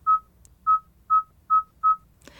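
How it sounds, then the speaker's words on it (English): Digits are dialed on a phone's number pad, five evenly spaced short keypad tones beeping in a steady rhythm, clean and close, ending with a brief burst of noise. "To place a call by dialing a number, press the Dial button and use the number pad to enter phone number."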